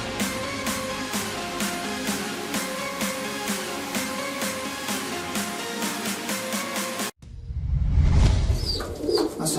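Pigeons coo in a steady repeating rhythm close by, soft throaty calls over a busy background, cut off by a louder rumbling passage near the end.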